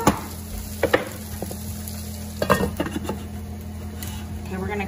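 Rice fries in a covered skillet with a steady low sizzle, broken by a few sharp clinks and scrapes of utensils against the pan, while a person talks over the cooking.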